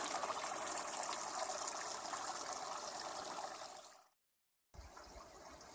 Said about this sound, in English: You can hear the water coming out of it.